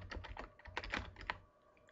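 Quick burst of typing on a computer keyboard, a dozen or so close, crisp key clicks in an uneven rhythm before fading to quiet.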